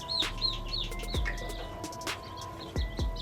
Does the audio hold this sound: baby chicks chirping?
yes